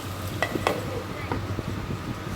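Green chillies go into a pan of cooking banana flower mix, a low sizzle broken by a few sharp utensil clinks and stirring scrapes near the start, quiet and without voices.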